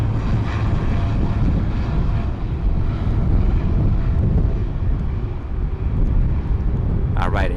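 A plane taking off from the runway at San Juan's Luis Muñoz Marín International Airport (SJU). Its engine roar is loud and steady, with wind buffeting the microphone throughout. A brief bird-like chirp comes near the end.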